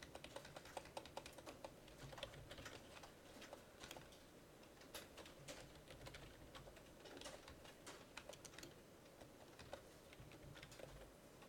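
Typing on a computer keyboard during a programming lecture, a steady stream of quick, faint key clicks with occasional louder strokes, continuing throughout without speech.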